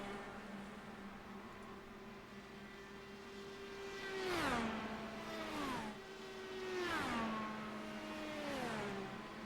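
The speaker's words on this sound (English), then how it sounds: "You can almost hear the pitches in the engine." Race car engines from the iRacing sim at a mini Indianapolis 500 howl at steady high pitch, then drop sharply several times in succession as cars lift and brake into turns, loud and close with no talking.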